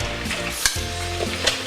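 Onions sizzling and frying in a hot pan over low heat, cooking for a beef dip, with a steady crackling hiss and a couple of soft stirring clinks, no voices.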